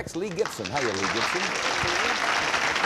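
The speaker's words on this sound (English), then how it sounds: "Nice round of applause for Mr." Studio audience applause on a 1972 nighttime syndicated Hollywood Squares game show, greeting a contestant; a steady, dense wash of clapping fills the room while a host talks over its start.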